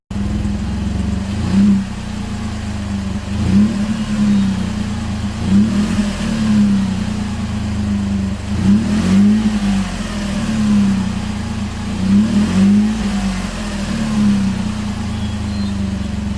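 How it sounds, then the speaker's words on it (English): A 2017 GMC Canyon pickup truck revs its exhaust in repeated surges, loud and close, the engine climbing and falling back about every two seconds with no talking. "let me go ahead and get an exhaust clip for you guys here"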